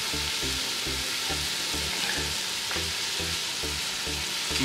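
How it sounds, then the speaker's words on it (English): Chicken soup ingredients stirred in a single pot, giving a continuous sizzle with a steady, regular rhythm of spoon strokes throughout. "keep stirring this a little"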